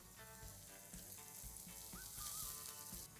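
Chopped capsicum sizzles in melted butter with softened onions in a pan for soya pav bhaji, a steady close frying hiss with some music over it and no talk.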